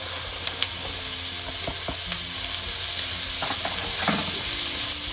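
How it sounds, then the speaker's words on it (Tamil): Runner beans and prawns sauté in a pan with a loud, close sizzle, punctuated by repeated scraping and knocking of a stirring spoon; no speech. "இனி இந்த பீன்ஸை போட்டு இதுக்குள்ள நான் வதக்க போகிறேன்"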